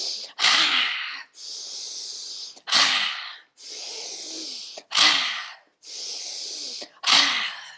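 Lion's breath yoga breathing, four forceful open-mouthed exhales with the tongue out, each a loud breathy burst separated by steady audible inhales, close and rhythmic.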